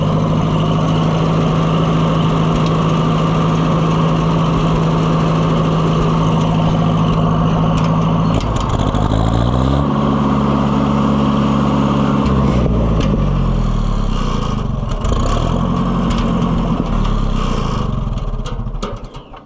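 Gas engine of an Oliver 550 tractor running loud and close, unable to idle properly, its steady drone dipping and rising in pitch as the speed hunts, then cutting off abruptly at the end.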